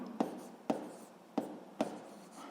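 A physics formula for spring force being handwritten, four short sharp pen strokes on paper at roughly half-second intervals, close and quiet, with no talking.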